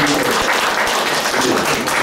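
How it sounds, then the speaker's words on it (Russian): An audience at a book presentation gives a short round of applause, a dense, loud and even patter of many hands clapping together. "Давайте еще раз похлопаем."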